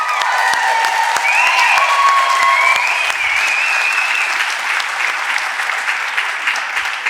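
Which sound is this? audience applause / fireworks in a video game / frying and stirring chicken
audience applause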